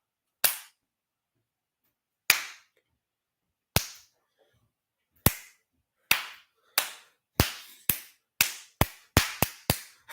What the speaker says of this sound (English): I'm gonna do Viking clap at home before second half starts.